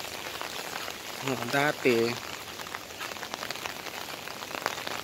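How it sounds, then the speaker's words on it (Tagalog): Heavy rain falling in Qatar, a steady dense hiss of drops across the whole span, with a short spoken phrase partway through. "Ngayon ulan na."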